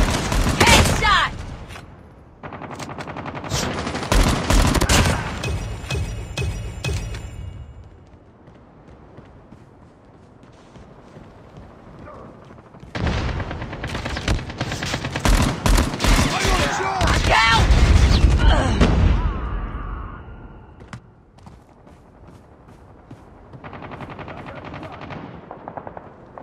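Gunfire from Call of Duty Mobile on the Nuketown map in Team Deathmatch, with loud bursts of rapid automatic fire and booming shots in two long stretches, separated by a quieter gap.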